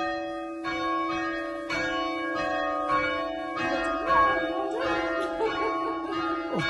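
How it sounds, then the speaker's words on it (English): Church bells in an old timber church in a remote English village ring in a steady rhythm of repeated strikes, with overlapping tones that hum and sustain. They sound fairly close and moderately loud, with no talk over them. "Oh, we're ringing the bells."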